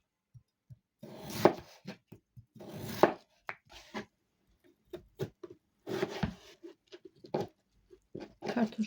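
Potatoes being chopped with a knife on a cutting board at home, firm rhythmic thuds coming in quick bursts with pauses between, close and fairly loud with no talking.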